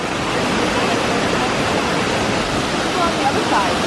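Tall 130 m waterfall in Costa Rica producing a constant, dense roar of falling water throughout, loud and unbroken.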